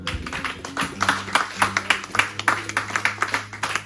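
A church congregation claps in praise of God during a pastor's sermon, with about a dozen sharp, irregular claps over a low sustained organ-like tone.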